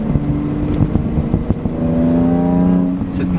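BMW M3 E46 Touring straight-six engine climbing from about 3000 to 4000 rpm, a loud close raspy tone that rises smoothly through the second half, with some knocking and rattles early on.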